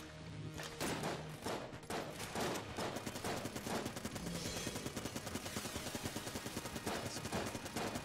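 Rapid gunfire from penetrative shots in the video game Enter the Gungeon, a dense, continuous stream of loud, closely spaced shots with thumping impacts throughout, no talking.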